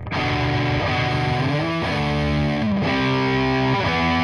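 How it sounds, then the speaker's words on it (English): Solo electric guitar with heavy distortion, played in sustained chords that change every second or so, recorded through different microphone models, loud and alone. "let me solo up the guitar here. Like, just listen, you can really hear the difference between all the mics"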